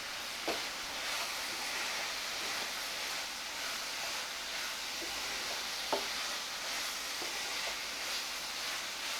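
Drumstick pieces and ground masala sauté in a kadai for an egg drumstick poriyal, giving a steady soft sizzling hiss with occasional light stirring scrapes throughout, fairly quiet and without talk.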